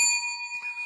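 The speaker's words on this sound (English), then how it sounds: "Let's ring the bell for that." A bell rung once on a sports talk podcast, a clear bright ring that sustains and slowly wavers as it fades, heard alone.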